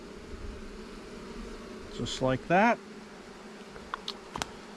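Honey bees hum faintly through a queen-rearing cell builder hive, under a quiet voice and sharp bursts of nearby handling noise.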